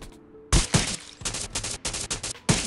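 AS VAL suppressed rifle fire in the battle royale game Rules of Survival: rapid, sharp bursts of close shots in quick irregular clusters, loud and alone with no talking.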